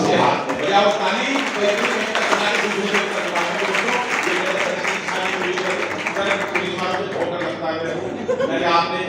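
An audience at a comedy performance claps and laughs continuously, with dense clapping and chuckles mixed with speech throughout.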